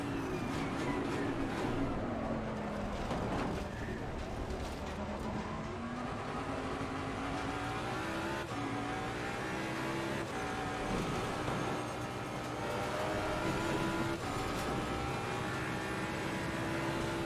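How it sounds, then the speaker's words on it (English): A race car engine in Assetto Corsa Competizione, driven hard, roars loud and steady throughout, its pitch climbing and dropping through gear changes with no pause. "Driving the heck out of this car. Trying to gain what little time we can."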